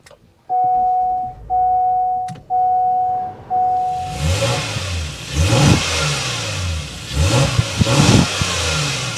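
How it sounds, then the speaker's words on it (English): Several warning chimes sound, then a 2024 Honda Pilot Elite SUV engine cranks and fires up, revving a few times with a deep, throaty exhaust rumble close by. "start it up, so you can hear that exhaust note"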